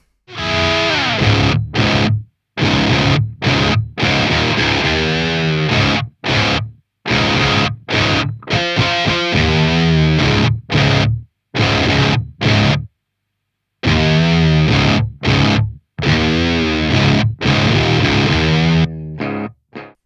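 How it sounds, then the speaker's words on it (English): Loud electric guitar through a fuzz pedal with a comp control, playing chords and riffs in bursts, with short silent gaps between phrases, thick and saturated throughout. "it can have a great impact on the character of the fuzz or the distortion"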